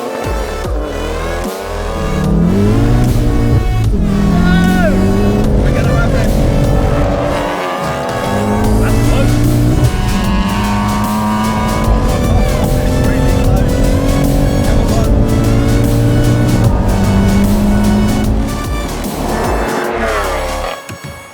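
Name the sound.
500BHP BMW M140i and MK7 Golf R drag racing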